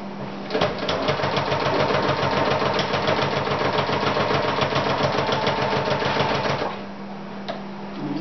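A sewing machine stitching hat fabric runs in a fast, even mechanical chatter for about six seconds, close and loud, then stops, leaving a low background hum.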